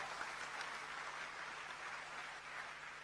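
Audience in a hall giving a round of applause at an anti-bullying talk, steady dense clapping heard at a moderate distance, continuous and even throughout the short stretch.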